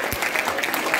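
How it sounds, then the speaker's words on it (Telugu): Students clap at a school science day celebration, a brief burst of dense, close applause from a group. "అమ్మాయి చప్పట్లు కొట్టండి అందరూ."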